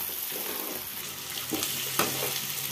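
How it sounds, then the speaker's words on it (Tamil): Chopped onions sauté in a pan for a Tamil country-chicken curry, giving a steady soft sizzle with a couple of faint scraping stirs, close and without talk. "நல்லா வதங்கணும் இந்த வெங்காயம்"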